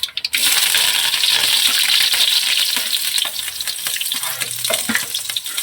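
Mustard seeds, curry leaves and chopped onion hit hot oil in a pan, bursting into loud, dense crackling sizzle that continues steadily with stirring scrapes and no voices.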